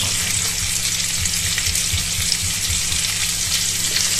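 Onions sauté gently in a pan for baked stuffed eggplant, a steady close sizzle over a faint low hum, with no voices.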